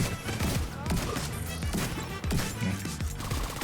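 Rapid gunfire and crashing explosions from the video game The Division 2, including a tank blowing up, form a dense, continuous barrage of shots and booms, loud and busy throughout.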